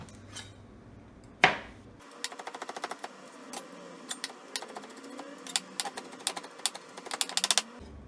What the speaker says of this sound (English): 2 cloves of minced garlic, so I'm gonna chop that now